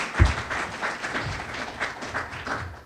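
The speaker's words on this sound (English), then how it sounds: "The applause says it all" Audience clapping at a nonprofit launch event, a fairly close, steady patter whose bursts rise and fall in a loose, even rhythm, with a single heavier thump near the start.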